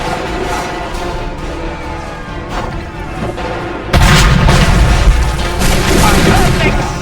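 A cannon shot in Assassin's Creed III lands with a heavy, sudden boom midway that holds into a loud rumbling roar with crackling debris, close and full, after a stretch of lower background noise.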